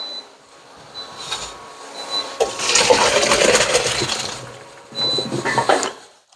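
Cooked pasta is tipped into a strainer, and the cooking water rushes and gushes through it in a loud, sustained pour, close by and alone, followed by a second shorter burst.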